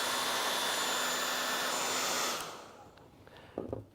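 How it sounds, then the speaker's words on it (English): A small blow dryer runs loud and steady while drying paint on a clay manatee sculpture, then cuts off, leaving a quiet room with a few faint handling knocks. "I'm going to take the little blow dryer and I'm going to do the back of it first."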